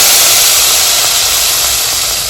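A loud, steady hissing sizzle of mustard seeds and curry leaves frying in hot oil for tempering, continuing without a break.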